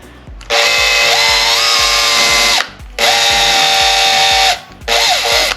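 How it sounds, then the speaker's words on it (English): A power drill whirs in three sustained bursts while pre-drilling a hole to fit a roller blind, its pitch rising as it speeds up, with brief pauses between runs. "And what I'll do, I'll just pre-drill this."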